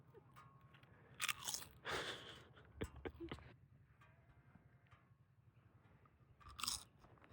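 A ewe chews on chips with loud, close crunching and biting in irregular bursts, then quieter steady munching and a final crunchy bite in an outdoor pen.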